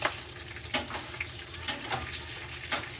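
Thick-cut hickory-smoked bacon sizzles in a pan for bacon and eggs, a close, steady crackle broken by several sharp spatters and stirring clatters.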